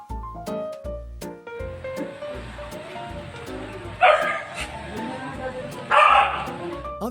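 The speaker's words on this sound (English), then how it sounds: "Other dogs can bark as much as they want" Dogs barking in a home setting: a few sharp, loud bursts stand out over steady background music.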